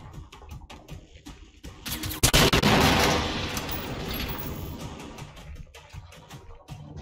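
Cannon fire in the video game Generation Zero, a heavy blast that swells into a sustained roar and rumble, with rapid crackling shots before and after.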